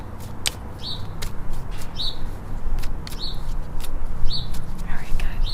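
Birds chirp outdoors on a chilly day, with repeated short high tweets in a loose rhythm over a constant low background rumble, moderately close, with no talk.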